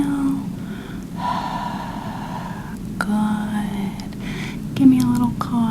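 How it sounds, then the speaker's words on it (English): Someone breathes in slowly through the nose and then exhales, soft, close and airy breaths with faint breathy sounds in a quiet room. "Take a deep breath in through your nose. Fill the belly."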